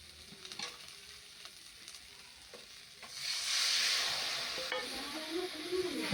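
Okra and potatoes stir-fried with turmeric, cumin and spices, a quiet sizzle with stirring clicks that swells into a louder steamy hiss as water hits the pan.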